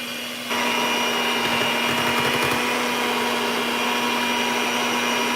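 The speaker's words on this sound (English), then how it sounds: "we're just whipping this with the mixer until it's as smooth as you want it" An electric mixer whips cooked sweet potatoes, starting abruptly and running as a steady, loud motor whine with a faint rattle of beaters in the bowl near the start.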